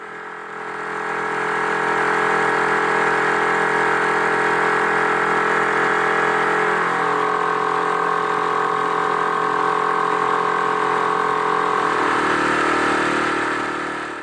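A noisy outboard motor on a small boat cruises steadily across a calm Scottish loch, a loud, continuous droning hum with a slight shift in pitch partway through, no voices.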